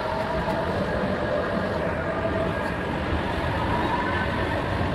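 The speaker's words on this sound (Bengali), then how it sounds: "নোয়াপাড়া থেকে গেট বন্ধ হওয়ার পর আমাদের মেট্রো ছেড়ে দিল নোয়াপাড়া স্টেশন থেকে" A Kolkata metro train on the new Yellow Line pulls out of Noapara station, giving a loud, steady rolling rumble and broadband hiss that holds evenly throughout.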